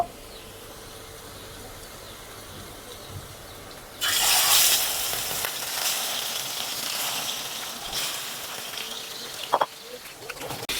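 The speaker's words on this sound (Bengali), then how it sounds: "এখন দিয়ে দিব টমেটো। মাছগুলো দিয়ে দিব।" Tomato and fish drop into a hot frying pan, setting off a sudden loud burst of sizzling and hissing that starts partway through and keeps crackling steadily to the end, with a couple of sharp clinks near the close.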